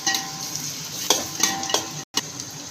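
Onions and tomato sizzle and fry in a pan for avalakki while a spoon stirs and scrapes against the metal in a few distinct strokes, close and steady.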